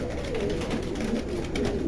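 A pair of domestic pigeons kept for sale coo softly and repeatedly in low, rolling murmurs, close by over steady background hum.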